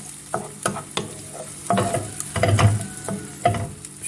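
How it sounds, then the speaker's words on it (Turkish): Grated tomato and onions are stirred in a pan, a spoon scraping in repeated strokes over a soft sizzle, close and fairly loud with no talking. "soğanlarımın üzerine rendelemiş olduğum bir tane domates ilave ediyorum. Güzelce karıştırıyorum."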